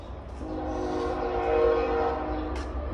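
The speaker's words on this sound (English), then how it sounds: "Sorry about that train noise." A train rumbles past steadily with a sustained horn tone, loud and continuous throughout, with faint rattling underneath.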